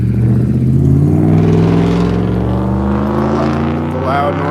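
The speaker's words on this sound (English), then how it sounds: "The loud noise harassment truck driving out right when I step on the sidewalk." A loud truck drives past close by on a street, its heavy, droning engine rumbling steadily and loudly throughout.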